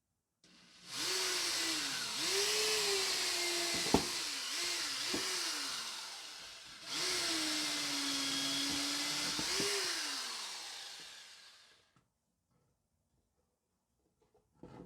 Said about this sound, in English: we've got our new drill